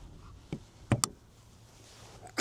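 Gull-wing rear door on a rebuilt Land Rover Discovery 2 TD5 gives a few sharp, close clicks and knocks: a soft tap, then a louder pair of clicks, and a final latch click at the end.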